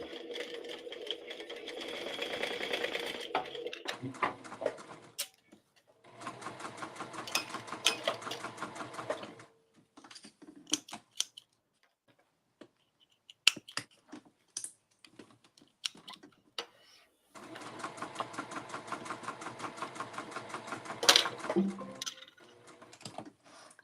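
Home sewing machine stitching a bag in bursts, each run a steady close mechanical whirr with rapid needle ticks, separated by quieter gaps with clicks and handling noises.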